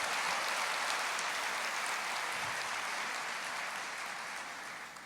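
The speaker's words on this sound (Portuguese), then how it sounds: "Aplauda ao Senhor" A church congregation applauds during a worship service, a dense steady wash of clapping that holds loud and continuous before easing slightly toward the end.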